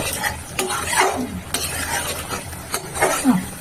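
Cauliflower masala with ginger being sautéed and stirred in ghee, the spoon scraping through the pan in a few strokes over a steady sizzle, close and moderately loud, with no one speaking.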